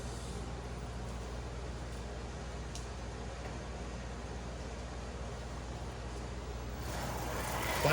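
A Porsche 914 rally slot car with a plastic sidewinder gear runs along its track as a quiet, steady motor whir that rises a little at the end.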